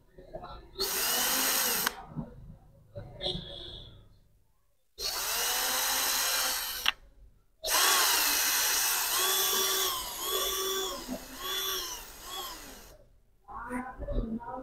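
Battery-charged mini drill boring wire holes into a small cabinet for a 12-volt router build, several loud high whining bursts with short pauses between them, close by and with no talk.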